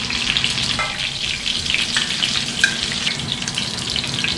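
Chicken schnitzel fries in a pan with a loud, steady bubbling sizzle and scattered pops, close by, with no one talking.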